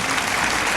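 An audience claps at an awards evening, a dense and steady burst of applause from a crowd indoors, brief and fairly loud.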